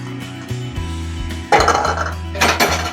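A utensil stirs shrimp in a creamy spinach alfredo sauce in a pan, with scattered scraping and clinking against the metal over a steady low background hum, louder in two bursts near the end.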